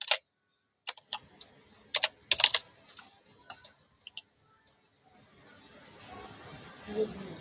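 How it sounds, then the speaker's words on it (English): Keys on a computer keyboard are struck in scattered, irregular clicks and short bursts, close and fairly quiet, then give way to a low background rustle near the end. "I'm going to start typing here."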